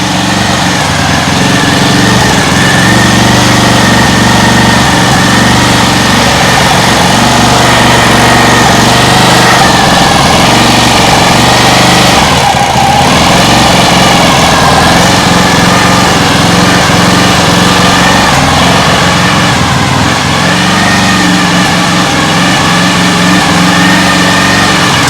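A homemade outboard motor built from a lawn mower engine runs continuously, loud and close, with a buzzing high-revving drone that surges slightly now and then and has no voices over it.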